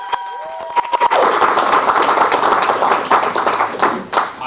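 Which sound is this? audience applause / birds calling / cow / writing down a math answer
audience applause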